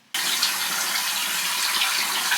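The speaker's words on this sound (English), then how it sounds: "I just wash my face with really hot water with a washcloth" Hot water gushes steadily from a bathroom tap for face washing with a washcloth, starting abruptly and holding a loud, even splashing rush close up with no voices.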